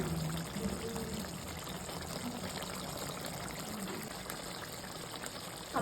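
Water poured into a pan of spiced chicken curry masala being fried, a steady gushing, sizzling pour close by that runs almost the whole time without talk.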